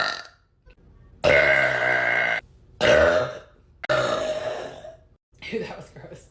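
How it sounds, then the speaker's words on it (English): A string of four or five loud, long, deep burps from a woman, close to the microphone, each drawn out and separated by short silences. "How loud are my burps?"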